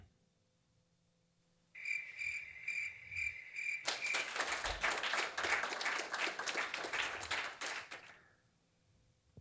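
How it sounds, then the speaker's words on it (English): A cricket chirps in a steady pulsing trill, then a burst of applause-like clapping swells over it and fades. "Choir of crickets."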